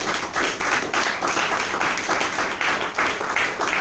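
Steady rhythmic clapping from a church youth gathering acclaiming Jesus, a crowd of hands beating together in an even pulse about twice a second, loud and close, with no voices over it.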